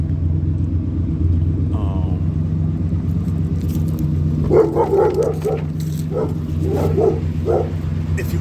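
Oldsmobile 98 engine breathing through dual Flowmaster FX mufflers with an H-pipe, giving a steady, deep, loud rumble throughout, with a dog barking several times midway.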